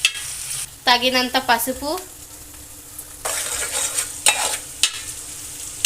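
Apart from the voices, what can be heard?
onions frying and being stirred in a hot pan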